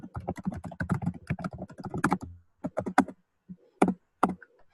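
Rapid clicking of keys on a computer keyboard during a programming session, a dense burst of close typing that thins into a few separate taps, with no speech.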